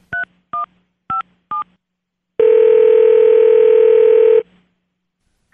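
A telephone gives four short evenly spaced touch-tone dialing beeps, then a pause, then a loud steady dial tone lasting about two seconds before cutting off.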